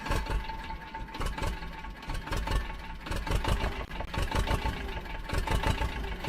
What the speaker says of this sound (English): Ferrari 2026 engine sound leaked?